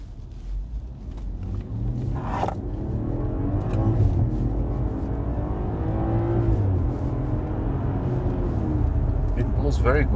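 Steady low road roar of all-season tires heard from inside a BMW 540i while driving, a continuous rumble under people talking in the cabin.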